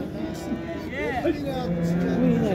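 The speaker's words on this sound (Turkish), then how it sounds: "Evet, şurada da var arkadaşlar yine simentalılar." Simmental cattle at a crowded livestock market in Şarkışla, one cow letting out a drawn-out moo with a bending pitch amid background voices and general market noise.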